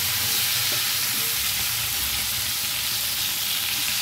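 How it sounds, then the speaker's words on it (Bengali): Pointed gourd frying in a pan with salt and turmeric gives a steady, close, continuous sizzle and hiss that holds evenly throughout, with no voices. "ভালো করে পটলটা ভাজবো"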